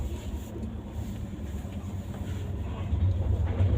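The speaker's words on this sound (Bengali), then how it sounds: "আর এখন আমরা ট্রেনে যাচ্ছি" Steady low rumble of a Duronto Express train running along the rails, heard from inside the carriage as a continuous, moderately loud drone that grows slightly heavier toward the end, with no talking.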